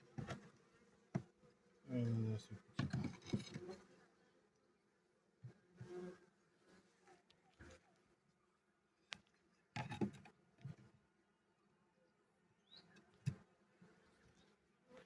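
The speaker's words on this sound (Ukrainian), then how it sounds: "Так, бджоли тікають звідси." Honey bees buzz near and around an opened hive in autumn, with several loud passes close by and quieter intermittent hums between them against a faint background.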